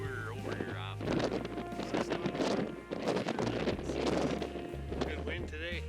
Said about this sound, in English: Yeah, a lot of wind.